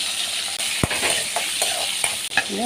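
Fenugreek and garlic frying in hot oil for bitter gourd kara kuzhambu, a dense loud crackling sizzle with a few sharp spoon taps and scrapes close by.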